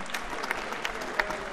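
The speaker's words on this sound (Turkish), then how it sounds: "bir büyük alkış gelsin lütfen" A banquet audience gives a big round of applause for the evening's main sponsor, steady dense clapping at moderate distance with a few sharper individual claps standing out.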